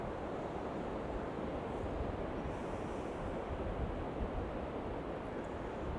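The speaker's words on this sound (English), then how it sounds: "See a lot of wind noise, a lot of tide noise, which is to be expected." Steady wind roaring across the microphone on a windy beach at Sutton on Sea, with tidal surf washing continuously underneath, a dense, even broadband rush with no pauses or talk.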